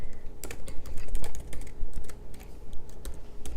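Fingers type on a laptop keyboard, producing quick, close, irregular clicks and key taps in a steady flurry with brief hesitations.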